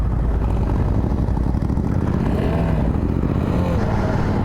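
Several motorcycles, including a Shotgun, ride out together toward Kasauli, their engines producing a loud, continuous low rumble close by with slight shifts in pitch as they cruise.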